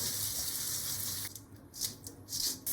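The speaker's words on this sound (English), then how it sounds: "discard the water and wash the beans lightly" Boiled azuki beans are rinsed under running tap water: a steady close rush of water that cuts off halfway, then a few short splashy bursts as the beans are washed.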